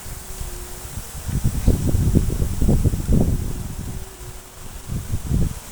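Strong, gusty wind buffets the microphone in a forest reserve where a large 170 cm Isan chula kite is flying. Rumbling surges rise and fall over several seconds, with a faint steady hum running underneath.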